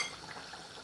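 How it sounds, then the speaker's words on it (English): Rice being stirred in a pot, heard as a faint, short scrape and soft sizzle at close range with no talking. "Let me just stir this rice a bit."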